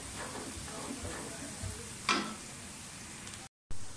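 Onions browning in a pot for aloo mutter pulao, a soft steady sizzle with scraping stir strokes and a brief sharp clink of a utensil, close but fairly quiet, cut by a short gap near the end.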